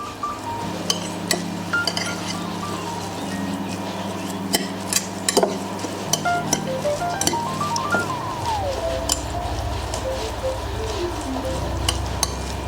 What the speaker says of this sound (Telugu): ఇప్పుడు ఇది మొత్తం మనం మిక్స్ చేసుకుందాం